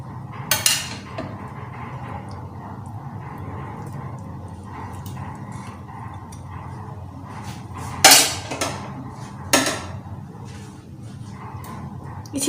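Seekh kababs are lifted one by one from a pan onto a dish, with a faint background hum and a few sharp metallic clinks and scrapes of utensil on pan and plate.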